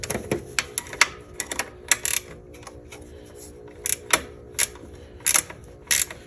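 A flex-head 15 mm ratchet wrench backs off a belt tensioner bolt on a Jeep XJ 4.0, giving sharp irregular clicks and bursts of ratcheting close by, with no talk.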